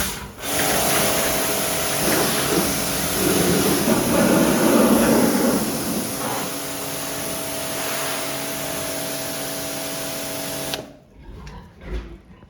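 A pressure washer pump sprays water to wash a sow farrowing room on a pig farm, a loud steady hiss with a whining pump tone that runs for about eleven seconds, then cuts off.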